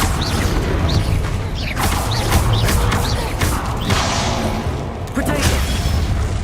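Bombarda blasting spells in the Hogwarts Legacy video game set off repeated booming explosions with crashing debris and whooshing magical effects, loud and continuous throughout.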